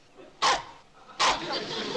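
A mutt dog in a sitcom family home gives two sharp, loud barks about three-quarters of a second apart, with a faint room tone between them.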